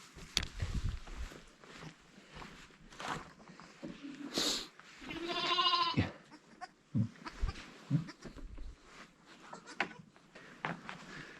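Goats on a farm bleat in a cold winter pen. Scattered snorts and sniffs lead up to one loud, drawn-out, wavering bleat in the middle, followed by more short grunts and shuffling nearby.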